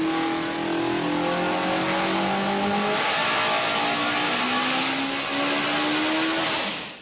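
A Borum Motor Works 2.1-liter four-cylinder engine revs hard and close, its pitch climbing and falling through several loud throttle sweeps before cutting off at the end.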